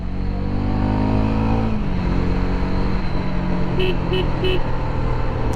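A Hero Karizma XMR 210 motorcycle engine drones steadily up close, its pitch shifting as it revs. Three short horn beeps follow near the end.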